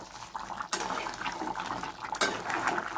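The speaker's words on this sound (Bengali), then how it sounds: "গরম মশলাটা দিয়ে একটু নাড়িয়ে দেবো" A pan of chicken kasha being stirred after garam masala goes in, with soft scraping and clinking of a utensil against the pan over a gentle cooking hiss, two brief louder scrapes standing out.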